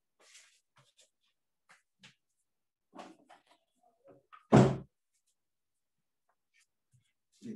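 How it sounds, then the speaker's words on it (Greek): Faint shuffling and small knocks lead to one firm thud as a door is pushed shut nearby, followed by near silence. "Μισό λεπτό να κλείσω λίγο την πόρτα μου."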